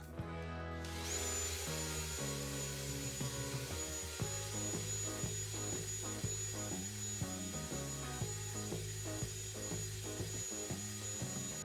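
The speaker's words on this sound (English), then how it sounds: "This is an adhesive wheel. You put it on a drill and you go to town." A drill fitted with an adhesive removal wheel whines steadily, its pitch shifting in rhythmic pulses as it grinds adhesive off a 1997 Ford F-350 truck, close and alone.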